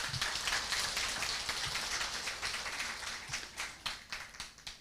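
A seated audience at an Atomy business presentation applauds, a dense steady wash of clapping that thins toward the end into separate, rhythmic claps.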